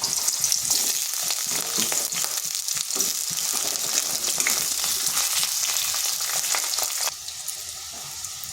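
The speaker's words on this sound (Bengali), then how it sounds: "আলুগুলোকে ভেজে নেব।" Long strips of potato frying in hot oil in a pan, a continuous dense sizzle and crackle up close, slightly quieter toward the end.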